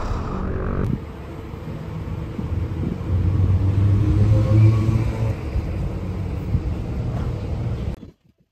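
A Lotus Emira sports car's engine gives a loud, deep rumble up close, swelling into a heavier surge midway before dropping off abruptly at the end, with no voices over it.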